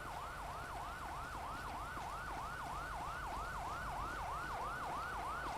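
A wailing ambulance siren in GTA V sweeps up and down in a fast, regular yelp cycle, steady and distant, over a low hum of road traffic with no talking.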